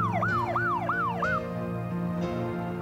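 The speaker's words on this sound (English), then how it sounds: "let's go meet the ambulance" An ambulance siren wails in a fast, repeating rising-and-falling pattern, loud and close, over a low engine hum, then fades to a steady tone.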